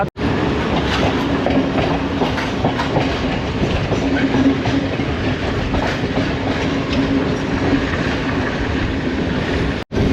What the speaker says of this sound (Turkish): Şu an benim bindiğim bu tren ekspres bir tren.